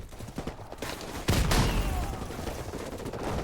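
Gunfire and a grenade blast in the video game Call of Duty Modern Warfare, with bursts of shots followed by a loud booming explosion that rolls on as a sustained rumble.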